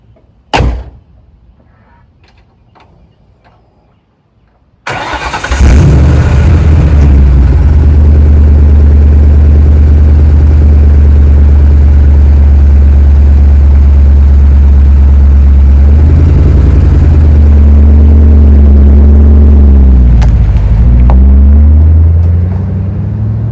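A 1966 Ford F100 with a 4.6L V8 and five-speed manual, chassis-swapped onto a Panther frame, cranks and fires on a cold start, then settles into a loud, steady rumbling idle with a brief rev dip near the end, heard from the driver's seat.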